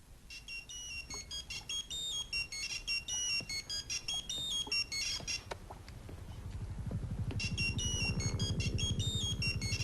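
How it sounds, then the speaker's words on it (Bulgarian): A phone rings with a repeating electronic tone in steady bursts, fairly faint, and a low rumbling background builds toward the end. "не спира да звъни."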